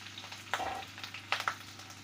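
Ginger, cumin seeds and green chillies fry in hot oil, a quiet continuous sizzle broken by a few sharp pops and crackles.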